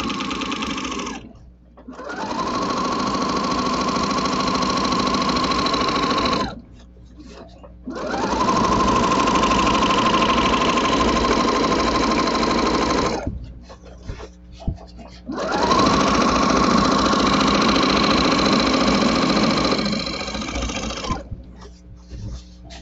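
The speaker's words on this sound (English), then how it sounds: "I'll quilt the seam and then I'll quilt one down the middle" A sewing machine stitches a baby quilt in three long runs, each a steady close mechanical whirr broken by brief pauses.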